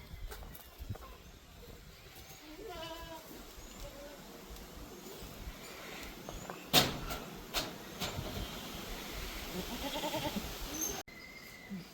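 Goats bleat on a goat farm, a few wavering cries rising over steady rustling and farmyard noise, with a sharper knock partway through.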